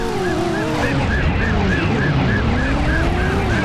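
Police car sirens from the 1999 PlayStation driving game Driver wail in a steady, rising and falling pattern over continuous game engine and road noise, loud and close throughout.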